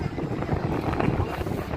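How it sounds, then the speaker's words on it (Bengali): A passenger launch passing on a river, heard as a rumbling low engine wash and water noise buffeted by wind on the microphone. "লঞ্চ যাচ্ছে"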